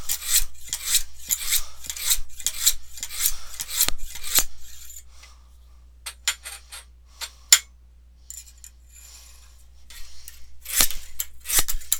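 Kitchen knife being sharpened with rapid rasping strokes on one side, then a pause with a few isolated scrapes before another quick run of strokes on the other side; close and crisp.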